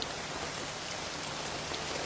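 Heavy rain pours steadily in a dense, even hiss of drops on surfaces, loud and continuous with no voices over it.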